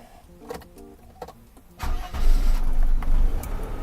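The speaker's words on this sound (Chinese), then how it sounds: "冷车第1次点火" A Mercedes-Benz W126 300SEL starts cold for the first time: a few clicks and a brief starter crank, then the engine catches and settles into a loud, steady idle close by.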